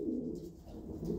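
Low, soft racing pigeon cooing rolls on steadily, a murmuring warble that swells and fades a little with no pauses.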